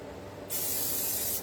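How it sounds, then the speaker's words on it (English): Cooking spray hisses from a can onto a pan before French toast is made, one steady close burst of about a second that stops abruptly. "I'm going to spray this here first"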